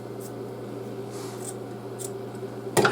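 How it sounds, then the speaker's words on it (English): Scissors snip the pointed tip off a paper cone for a handmade Christmas ornament: a couple of soft faint cuts over steady background hum, ending in one crisp louder snip. "we're just going to cut off that little pointy tip on that side"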